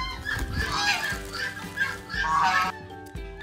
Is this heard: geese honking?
yes